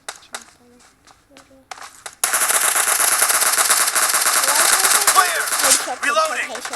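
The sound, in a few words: gunfire in the video game PUBG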